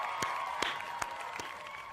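Slow, evenly spaced claps, four distinct smacks about every 0.4 seconds, over a faint steady tone in the background, with no talk.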